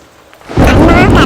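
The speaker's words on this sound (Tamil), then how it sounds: "இன்னாடி மழை பெஞ்சிட்டு கிடக்கு. எதுக்குதான் இப்படி பெய்யோ தெரிய மாட்டேங்குது." Heavy rain with thunder: after a quiet, low start, a loud broadband roar of downpour and a thunder rumble suddenly swell in and hold steady, close and dominant.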